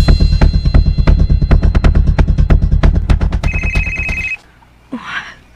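A cellphone rings loudly and close in a radio drama, a fast repeating electronic trill with a brief higher tone near the end, then it cuts off abruptly, followed by a short, faint voice.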